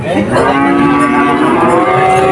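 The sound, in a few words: cow mooing at cattle market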